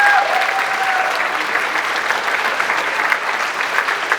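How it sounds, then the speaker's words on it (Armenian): An audience at a Sayat Nova music school concert applauds the children's parents, a dense, steady wash of many hands clapping that holds at full strength for the whole stretch with no voices on top. "ծափարենք մեր ծնողներին։"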